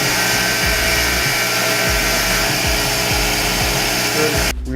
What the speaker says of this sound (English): cleaning the first valve with the table grinder